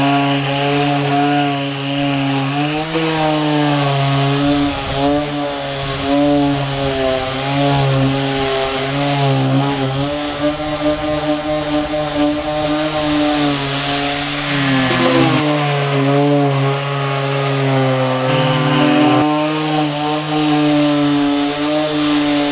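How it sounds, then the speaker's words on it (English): A palm sander works along the edges of a model railway module frame and its styrofoam, giving a steady, close motor whine with a slightly wavering pitch that runs on without a break and without any talking. "we're going to take our palm sander and we're going to sand the edges of the module frame"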